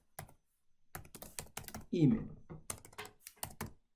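Computer keyboard typing in quick, uneven bursts of clicks while entering an expression in a Power Automate workflow, with a person talking between and over the keystrokes.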